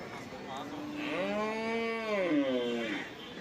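A buffalo at a cattle market lets out a long, deep lowing moo that rises and falls over a few seconds, close by against a murmur of background noise.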